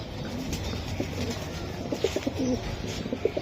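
Racing pigeons coo in soft, repeated low calls close by, over a steady background hum.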